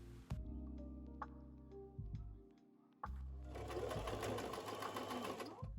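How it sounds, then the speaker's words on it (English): An overlocker sewing a seam on a blouse, its motor whirring in loud, steady runs broken by short stops and restarts, close up, with mechanical ticks and rattles between runs. "you just want to overlock this seam"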